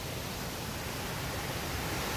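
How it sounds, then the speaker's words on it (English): A loud waterfall on a morning nature walk pours out a steady, dense roar with no breaks, filling the space evenly from start to finish. "That waterfall was really loud."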